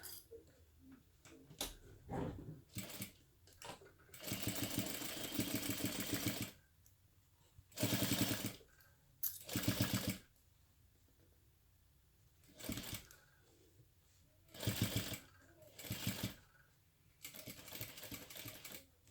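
A sewing machine stitches a crossbody bag in a series of rapid, rattling bursts of varying length separated by pauses, close up and alone.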